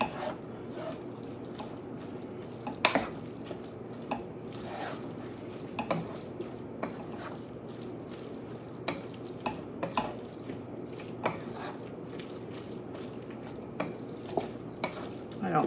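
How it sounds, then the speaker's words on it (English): A from-scratch sloppy joe mixture gets stirred around in a pan, with a steady wet sizzle under soft scraping and occasional sharp clicks of the utensil against the pan. "just gonna mix this around"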